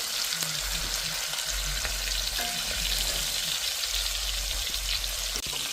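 Beef short ribs browning in a pan on the stovetop, giving a loud, dense, continuous sizzle and crackle with a low rumbling undertone, close and steady throughout.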